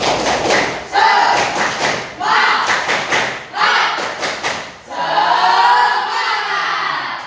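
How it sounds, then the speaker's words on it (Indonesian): An elementary classroom of fourth graders performs a rhythmic spirit clap, with bursts of loud group clapping in patterned beats, then ending in a longer sustained round of clapping and cheering. "kita melakukan tepuk semangat"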